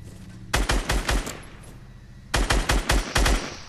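Video game squad shooter gunfire aimed at a staircase, two loud rapid bursts of automatic shots about a second long each, separated by a short pause, close and sharp over faint background noise.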